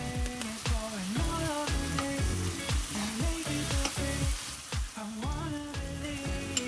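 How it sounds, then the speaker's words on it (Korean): Onion, green onion and cabbage sizzle in a hot pan for omurice, seasoned with herb salt or salt, with continuous frying crackle and repeated scraping stirs at a steady rhythm, close up and without speech. "허브 솔트나 소금을 톡톡 뿌려서 계속 볶아주세요."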